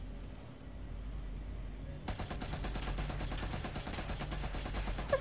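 Gunfire in the video game Watch Dogs Legion: rapid bursts of shots begin after a couple of seconds of background noise, continuing as a steady rattling stream to the end.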